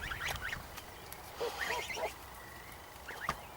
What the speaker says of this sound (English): I'm getting raided by the geese.